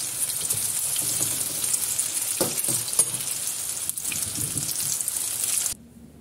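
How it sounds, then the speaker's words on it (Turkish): Eggplant slices frying in a pan of oil, a close, steady crackling sizzle with occasional stirring clinks, ending abruptly near the close. "Bu şekilde kızartıyorum patlıcanlarımı."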